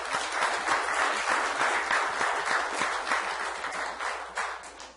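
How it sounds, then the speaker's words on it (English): Audience members at a Calaveras County Board of Supervisors meeting clap in a brief, moderately loud burst of applause that fades out toward the end. "Okay, we'll let you clap for that one."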